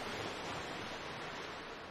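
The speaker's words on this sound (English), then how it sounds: "Huge waves are deflected to the side of the model's flared bow." Waves in a test tank crash and spray off the flared bow of a model of the Queen Mary 2 ocean liner, a dense, continuous rushing wash that fills the clip.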